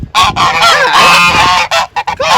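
Farm ducks squabble loudly and close by, a burst of harsh, honking quacks overlapping in a noisy scuffle with brief gaps between calls.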